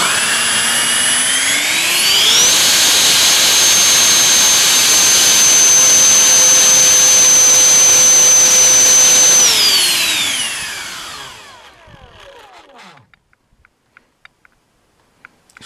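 A 12-blade 64mm electric ducted fan on a 6S battery spools up to a loud, piercing jet-like whine, holds at full throttle for several seconds, then winds down to silence, leaving only faint clicks and rattles.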